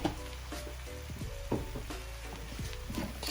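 Seasoning, including jerk, being stirred into prawn fried rice in a hot pan: steady close sizzling with repeated scraping stir strokes and a few clanks, no voices.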